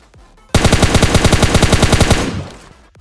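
Sustained burst of automatic gunfire in the game PUBG Lite, loud and close, a fast even string of shots lasting about two seconds before tapering off.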